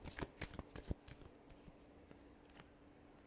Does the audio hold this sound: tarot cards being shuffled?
yes